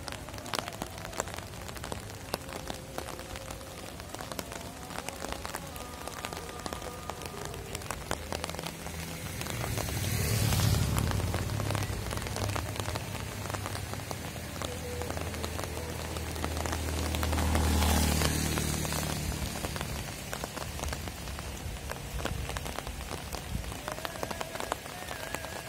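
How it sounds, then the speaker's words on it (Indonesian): Heavy rain pours steadily during extreme weather near Malang after dark, a dense continuous hiss with two swells of louder downpour, each with a deep rumble, alone without voices. "Hujan teman, tambah terus hujan nih."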